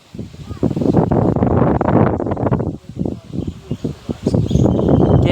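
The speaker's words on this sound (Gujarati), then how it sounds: "ફૂલ પવન આવે છે" Strong gusty wind in a mango orchard rushes and buffets in loud, uneven surges with a short lull partway through, while voices are heard faintly under it.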